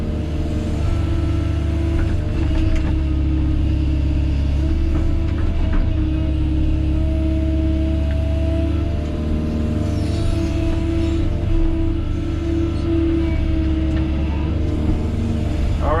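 A Kobelco SK160-6E excavator works nearby while loading dirt into a truck at a house foundation backfill, its engine droning in a steady heavy rumble with occasional revving and faint clanks, no voices.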